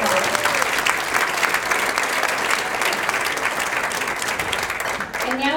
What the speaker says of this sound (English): Let's give all of our dignitaries a big round of applause.